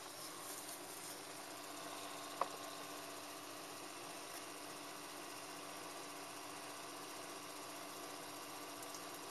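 Sharp KC-850T air purifier running at its lowest fan speed indoors, a faint steady motor hum and soft airflow, joined by a single small click early on.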